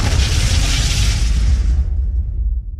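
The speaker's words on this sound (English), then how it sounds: "that was a planned explosion that I said not to set off yet" A staged explosion sound effect on a film set, a loud rumbling boom with a broad noisy blast that rolls on for a couple of seconds, then fades and cuts off, no voices.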